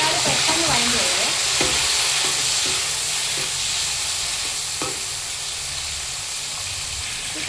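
Tomatoes sizzle steadily in a hot pan of sambar base with drumstick pieces, a continuous close frying hiss with occasional stirring clinks and scrapes.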